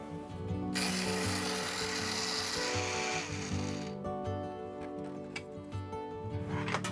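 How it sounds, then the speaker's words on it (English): A hand-cranked spice mill grinds toasted coriander seeds, a loud, close, gritty ratcheting crunch that runs continuously and shifts in texture partway through. "This is just my spice mill, which I'm going to use to grind my coriander seeds that I toasted."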